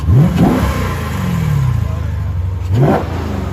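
A Dodge Challenger Shaker 392 HEMI V8 with dual exhaust and a mid muffler delete barks through two sharp throttle blips, settles into a loud rumbling idle, then revs once more up close.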